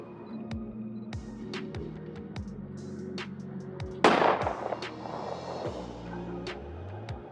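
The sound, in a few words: gunshot sound effect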